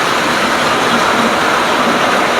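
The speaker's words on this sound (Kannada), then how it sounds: "ಮಳೆ ಜೋರಾಯಿತು." Heavy rain pours down in Bengaluru in a steady, dense wash of noise, loud and close, with no break for the whole stretch and no voices over it.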